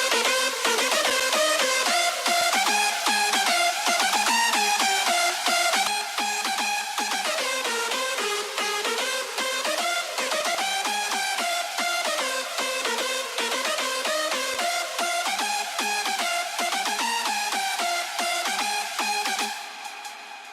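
A bright, buzzy hardstyle synth lead plays a fast, bouncing melody, loud and continuous with no voices, fading out right at the end.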